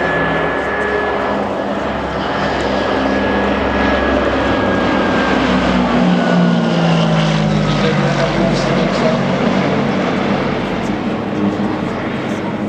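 A Spitfire propeller aircraft roars loudly at an air show, its engine drone steady and close throughout with a slowly shifting pitch as it passes.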